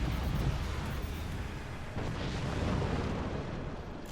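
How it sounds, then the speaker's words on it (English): Missiles launch and explode in a video game as a dense, continuous roar of booming blasts and rumbling fire, loud and sustained with no pauses. "More missiles launched."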